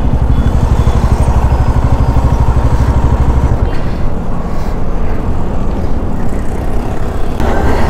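A motorcycle rides along a road on the way to Baikampady, its engine droning loud and close with constant rumble and wind noise throughout.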